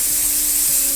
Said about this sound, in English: give that a smoothing over, and a bit more hairspray